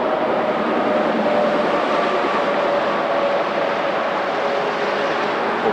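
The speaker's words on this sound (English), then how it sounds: "You can hear the interstate behind me." Steady broadband roar of distant interstate highway traffic on a clear, cool morning, a continuous low rumble with a faint hum, constant in level and with no voices.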